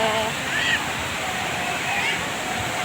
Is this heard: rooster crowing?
no